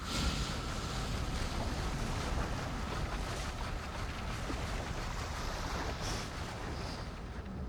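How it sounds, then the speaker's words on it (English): Water released and rushing in the Riven game world, a steady broadband wash of flowing water that fills the scene at even loudness throughout, with no voices. "I guess I should release the water?"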